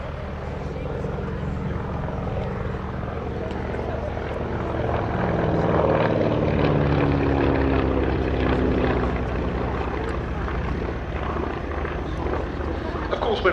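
A Beechcraft Staggerwing propeller biplane at an airshow, its engine droning steadily and loudly throughout, swelling slightly as it passes nearer midway, with a commentator talking over it.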